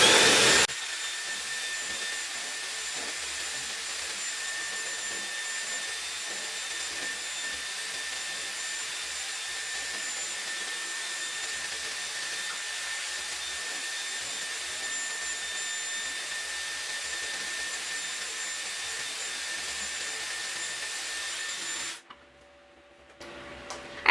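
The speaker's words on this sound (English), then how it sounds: "the first attachment I would like to try out is the blow dryer" A Dyson Airwrap blow dryer attachment drying damp hair: a steady, even whoosh of blowing air runs continuously for about twenty seconds before switching off, close and uninterrupted with no talking.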